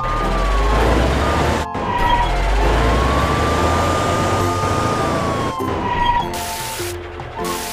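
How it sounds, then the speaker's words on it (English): Fire truck siren in a kids' driving video game, a loud continuous wailing tone rising and falling over an engine rumble, with brief cut-outs as the game sound restarts, no talk. "Drive the fire truck to find it!"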